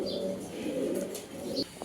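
Polish high-flying pigeons coo nearby in low, throaty, rolling tones, with a few soft chirps and rustles above the steady cooing.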